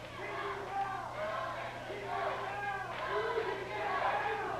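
Wrestling arena crowd chanting in repeated rhythmic waves of voices, loud and continuous throughout, with a steady low hum underneath.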